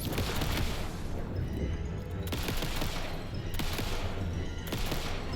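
Jesse Faden's standard weapon firing in Alan Wake II, loud, dense sustained bursts of rapid shots repeating in waves with short gaps between them.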